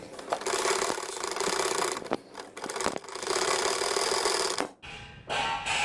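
A sewing machine stitches the centre seam of kids' shorts with a loud, close, continuous buzzing hum, broken by short stops and restarts near the end, with no talk.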